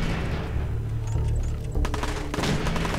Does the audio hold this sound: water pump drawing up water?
no